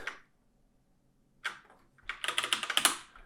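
Keys clack on a computer keyboard as a spreadsheet formula is typed, a short tap, a pause, then a quick burst of close, crisp keystrokes.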